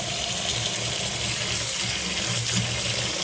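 Fresh nettle tips rinse under a running tap, a steady, loud, close rush of water spilling over the leaves with no talk.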